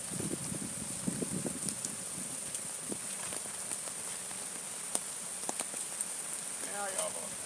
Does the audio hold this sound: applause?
no